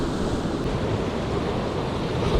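Steady crosswind gusting over the sea during shore fishing for bass, a broad continuous rush of wind with surf washing below it, close to the microphone and without speech.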